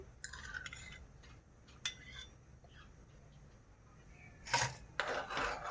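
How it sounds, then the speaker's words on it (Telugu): A utensil scrapes and stirs melting butter in a pan while making ghee, giving faint, intermittent rubbing strokes against the metal with quiet gaps between them. "ఇదైతే మొత్తం బ్రౌన్ కలర్కి రావాలి వచ్చేంతవరకు ఇట్లా కలుపుతూ ఉండాలి"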